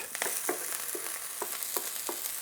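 Onions frying in a pan for lumpia spring rolls, a quiet continuous sizzle broken by a handful of light stirring scrapes at irregular intervals.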